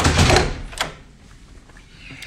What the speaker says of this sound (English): If I can open the door.